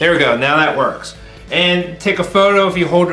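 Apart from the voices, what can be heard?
No everyday noises stand out.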